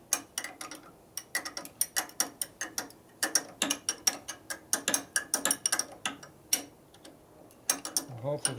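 A hand ratchet wrench works acorn nuts off a bracket on a 1965 Harley-Davidson panhead, giving crisp, close clicking in uneven bursts of rapid pawl ticks with brief pauses between strokes.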